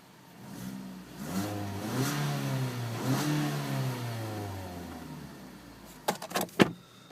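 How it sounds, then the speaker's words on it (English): A 2012 Ford Focus with a manual gearbox revs from idle in one smooth, rising and falling sweep, slightly boomy and close. A few sharp clunks follow near the end. "You could actually rev it if you needed to."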